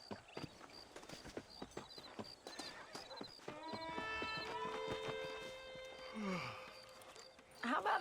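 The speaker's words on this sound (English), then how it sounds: "ride your horse to the hitching post" Horse hooves clip-clopping in a steady rhythm from Red Dead Redemption, followed by a loud drawn-out whinny as the rider pulls up at a hitching post, with game music and ambience underneath.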